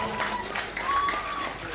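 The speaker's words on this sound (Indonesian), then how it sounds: "Berikan tepuk tangan kepada Aan Zamzuri Musofa." Audience applause at a provincial Quran and classical Islamic text competition grand final in Lampung, a dense steady wash of clapping with crowd murmur and a voice over it.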